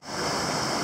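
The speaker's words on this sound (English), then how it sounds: "this is a beautiful, pristine mountain stream" Steady rushing flow of a clear mountain stream in Vermont woods, a dense, even wash of water noise held at constant loudness throughout, with no voices.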